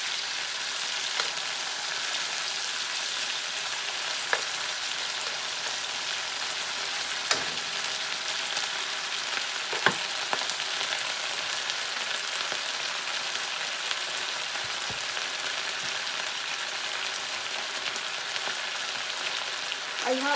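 Beef and broccoli stir fry sizzles steadily in a hot pan, a dense hiss that runs continuously with a few soft clicks of stirring and no talking.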